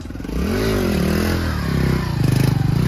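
A nearby Honda Pop 110i motorcycle engine revs twice, its pitch climbing and falling with each throttle blip before settling into a rough idle.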